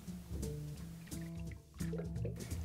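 Lime squeezed for a cocktail: soft, close wet squelching and dripping of juice into a measure in short pulses, quiet and without talk.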